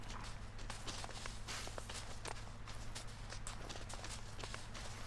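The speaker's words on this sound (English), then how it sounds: "I can hear him moving. Yeah, quick footsteps." Quick animal footsteps in the hunting video game The Hunter: Call of the Wild patter in a fast, steady rhythm over a constant low ambient hum, fairly close and moderately loud.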